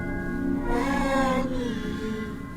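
A cat meows in a horror video game, one long drawn-out wailing call over a quiet background hum.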